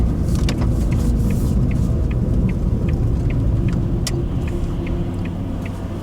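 A car sets off during a driving lesson, its engine giving a steady low rumble throughout with a few light clicks and ticks over it. The sound is fairly close, and no one speaks.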